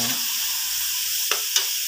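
Pancit canton stir-frying in a pan with pork fat, a steady sizzle running throughout with two brief scraping clicks from stirring near the end.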